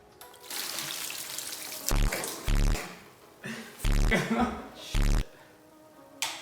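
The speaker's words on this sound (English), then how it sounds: "Pour some rainwater or distilled water, clean water basically, that you should know about if you grow these plants, and just rehydrate this and mix it all together." Rainwater trickles and splashes steadily into potting mix for repotting tropical pitcher plants, close by and continuous, with louder knocks and thumps interrupting.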